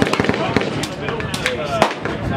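A rifle, with a bolt and forward assist, fires on a shooting range at a trade-show industry day: a rapid series of sharp cracking shots, close and loud, with people talking.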